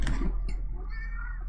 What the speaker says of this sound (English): Meow, meow, meow, meow. Aw,